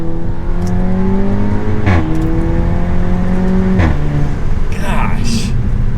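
An Audi S3 engine in dynamic mode, heard from inside the cabin with the sunroof cracked open, revs loud and steady. It climbs in pitch with two brief gear-change dips, and a voice speaks briefly near the end.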